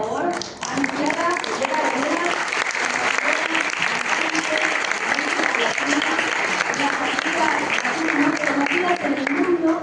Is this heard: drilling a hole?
no